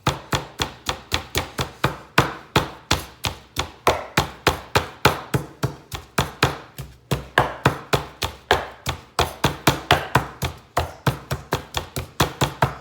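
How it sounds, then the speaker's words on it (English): A knife chops garlic on a board in a steady, quick rhythm of crisp, close taps that continue without a break. "So in here, I'm just gonna chop this up."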